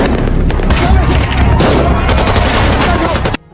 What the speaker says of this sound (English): evading bullets from a shootout happening